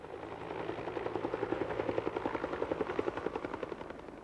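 A police narcotics brigade helicopter circles low overhead, its rotor blades beating in a steady rapid chop that swells and holds close and loud throughout, with no voices.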